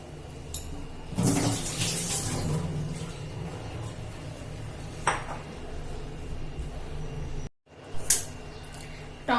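Drumsticks (moringa pods) for soup are lifted out of a vessel of water, with splashing, dripping and clinking of dishes close by, a brief pause, then more sloshing.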